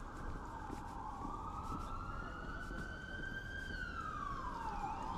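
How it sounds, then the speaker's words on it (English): Emergency vehicle siren wailing on a Toronto city street, one steady rising and falling tone heard at a distance, fairly faint over traffic hum. "I hear a siren."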